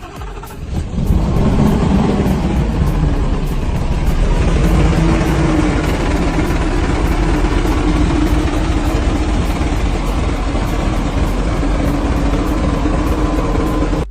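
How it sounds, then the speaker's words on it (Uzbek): Shakman F3000 truck engine cranks and catches, then settles into a steady, loud, close-up diesel idle with a deep rumble and constant vibration, no voices. "Texnikamizni yurgizib, ovozini bitta eshitaylik"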